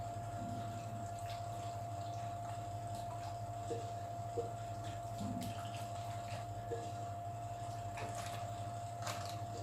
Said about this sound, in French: Il va vous rester un petit peu de marinade, vous mettez un peu d'eau.